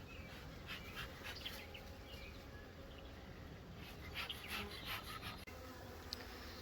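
Honey bees buzz around a hive box in the evening as field bees return, a faint, steady hum with scattered closer buzzing passes and a small knock near the end.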